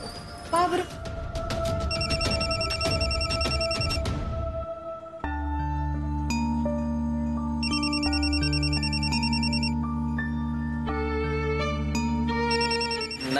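A telephone ringing with a melodic electronic ringtone, steady and prominent over background music for several seconds in a domestic drama scene.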